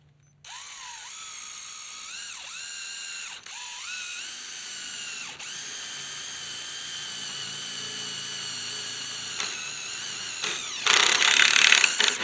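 A power drill drives 2-inch self-tapping screws into steel floor framing for a tiny house. Its steady high whine dips in pitch each time a screw bites, with a louder rattling burst near the end.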